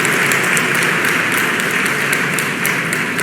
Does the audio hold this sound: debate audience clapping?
yes